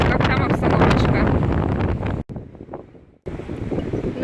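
Strong wind buffets the microphone at the seaside in Gelendzhik on a hot day, a loud roaring gust that briefly drops off to near quiet before surging back in, with a low rumble beneath.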